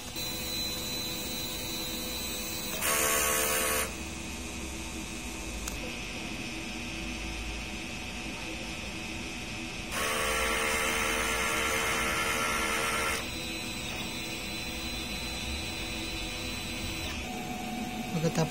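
A large-format DTF printer hums steadily while its print head cleaning mechanism whirs in two louder bursts, one short and one lasting a few seconds, with a faint voice underneath.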